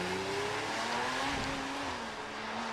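A Porsche 911 GT3 996 with a 3.6-litre engine races up the Prescott hillclimb, its engine note rising and shifting in pitch at moderate distance, fairly faint against a wide background hiss.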